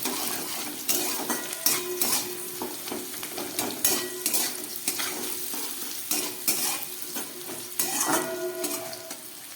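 Potato fries in a pan of oil, with a steady sizzle broken by repeated scraping and clinking strokes as it is stirred and lifted out, close and clear without talk.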